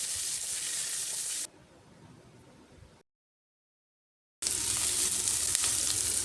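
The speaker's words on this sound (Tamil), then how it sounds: "கட் பண்ணி வச்ச ஒரு பெரிய வெங்காயத்தை சேர்த்து கண்ணாடி பதத்துக்கு வதக்கிடலாம்" Steady hissing sizzle of chopped onion sautéing in hot oil in a pan, cutting out to near silence midway before the loud sizzling returns.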